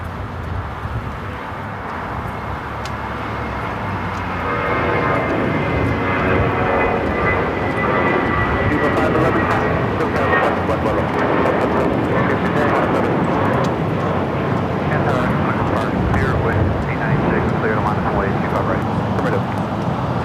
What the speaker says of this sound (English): That was Viva Airbus 511 taking off to Guadalajara on the A320 Club America